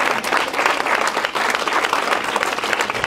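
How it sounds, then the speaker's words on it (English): A church congregation at a Sunday service claps together, a loud, dense and steady round of applause filling the room throughout. "You guys should clap on."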